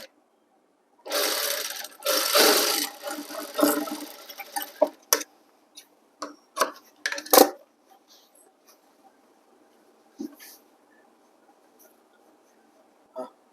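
A sewing machine stitches folded canvas into school uniform pants in short, close bursts of rapid whirring and clicking, separated by quiet pauses, with faint talk in places.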